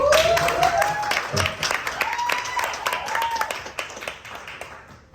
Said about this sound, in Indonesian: Kita kasih tepuk tangan dulu buat Bang Firza.